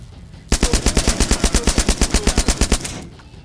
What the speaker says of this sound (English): We've got the submachine gun, the SMG.